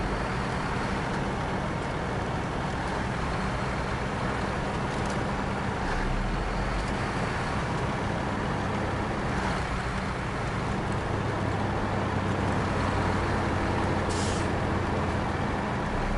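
A heavy truck engine in the SnowRunner video game drones steadily for the whole stretch, a low rumble with shifting tone as it works through gear changes, no voices.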